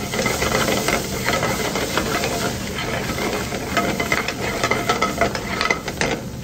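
Chopped onions sizzle as they fry in a pan for an aloo baingan dry vegetable dish, a steady close hiss and crackle with a faint stirring scrape and no voices.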